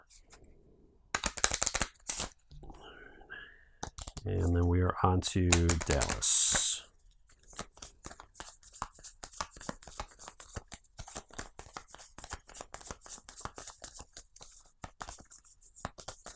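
A deck of board game cards is riffled and shuffled with crisp rapid bursts, followed by scattered card handling and clicks; someone speaks briefly in between.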